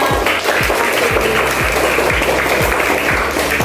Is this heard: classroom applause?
yes